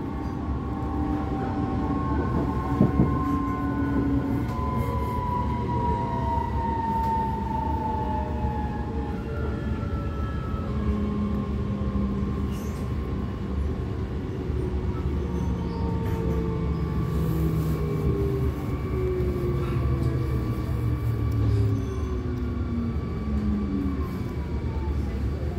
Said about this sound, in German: Deze metro gaat richting Isolatorweg.